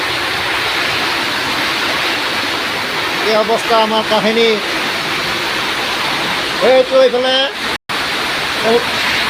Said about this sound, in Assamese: এইটো হ'ল গংগা নদী